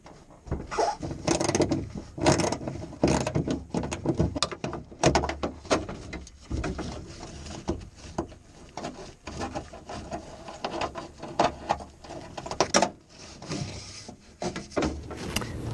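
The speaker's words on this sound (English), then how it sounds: "Now I'm going to take the nuts off with a 10mm socket." Door handle nuts come off a 1999-2007 Chevy Silverado 2500HD driver door with a 10mm socket, a busy run of close scraping, clicking and rubbing metal-on-plastic sounds with no talking.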